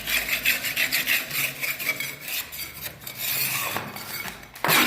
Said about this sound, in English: It's literally just scraping off.